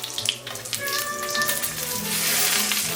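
Crispy salmon cakes frying in a pan make a continuous sizzle and hiss that builds slightly, close up and fairly loud, with a few light pops and no talk.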